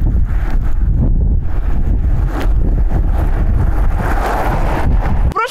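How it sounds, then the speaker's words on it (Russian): Strong blizzard wind drives snow across a road with near-zero visibility, a loud, unbroken roaring rush buffeting the microphone throughout. "Пурга на том же участке снова переметает дорогу."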